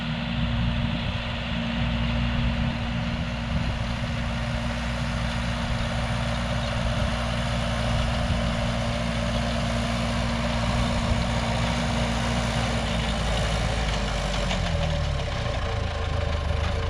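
A farm tractor engine idles steadily and loudly for a long stretch, a deep even chugging drone that sags slightly in pitch near the end.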